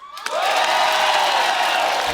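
The studio audience of a comedy talk show bursts into loud applause and cheering with whoops, a sudden dense wall of clapping and shouting that continues for about two seconds.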